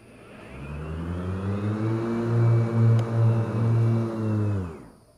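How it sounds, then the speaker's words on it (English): An electric RYOBI 80-volt zero-turn mower with a 54-inch fabricated deck engages its blades, producing a smooth whirring hum that spins up, holds with a slight pulsing for several seconds, then winds down; close and fairly loud, no talking. "If we want to engage the blades"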